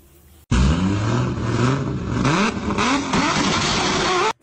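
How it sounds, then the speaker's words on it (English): A car engine revs hard while drifting, a loud near roar with rising and falling pitch sweeps and steady tire-and-engine noise throughout, starting abruptly after a brief quiet moment. "Whoa, nice drift, bro."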